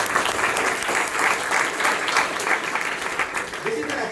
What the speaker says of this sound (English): Can we give a big round of applause for him?